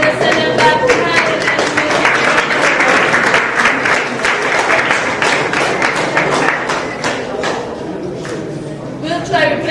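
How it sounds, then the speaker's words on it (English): Group 3 at a robot camp gets a round of applause: dense, sustained clapping from a room of people, loud and close, with voices mixed in underneath. "give group 3 a round of applause"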